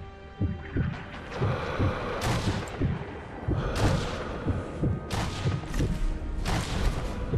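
Gunfire in the sniper shooter game Sniper Elite V2, heard as a steady run of dull, thudding shots. Several louder cracks with bright bursts stand out over the background din.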